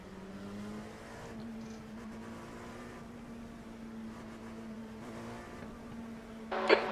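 LMP2 prototype race car at Watkins Glen in a racing video game, held in first gear before a restart: a quiet, steady engine hum at low idle, ending in a short sharp burst.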